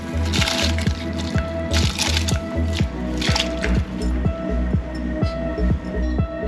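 Soaked rice for Hyderabadi mutton dum biryani is tipped into a pot of boiling water, producing loud, close, repeated wet plops and squishy splashes in a quick, uneven rhythm.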